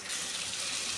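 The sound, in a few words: water poured into pan for pabda fish curry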